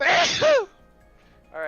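A single loud, close sneeze from someone at a tabletop role-playing session, followed by a quieter voice after a pause.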